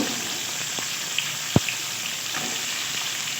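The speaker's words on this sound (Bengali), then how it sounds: "এবারে পটল আর আলুটা ভালো করে তেলের মধ্যে ভেজে নেব" Pointed gourd and potato frying in oil, a close, steady hiss of sizzling with a faint stir and one sharp tap near the middle.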